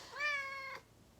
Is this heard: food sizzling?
no